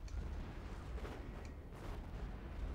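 Space battle in the Planetary Annihilation Titans strategy game: a continuous low, muffled rumble of distant explosions rolls on without pause, fairly quiet, with no single sharp blast standing out.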